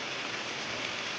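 Heavy rain comes down in sunshine, making a dense, steady hiss of drops that stays even and fairly soft throughout, with no voices.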